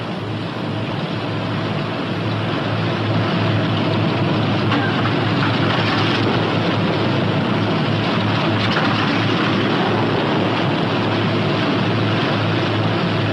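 Twin-engine P-61 Black Widow night fighter idling during a ground run-up, a steady, loud, continuous piston-engine drone with a low throbbing hum, holding even throughout with no voices.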